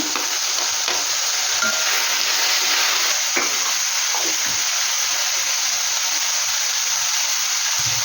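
Beans and vegetables sizzle and fry in a pan while being stirred for bisi bele bath, giving a steady, close hiss with occasional scraping from the stirring and no talking.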